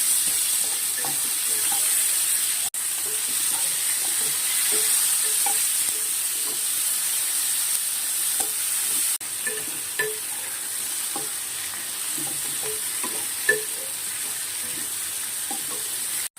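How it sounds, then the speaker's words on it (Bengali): Onions stirred and fried in a pan for a Bengali aar fish jhal, a constant close sizzle broken by repeated scraping and clinking of the spatula, no talking. "এবার পেঁয়াজটা দিয়ে দিচ্ছি।"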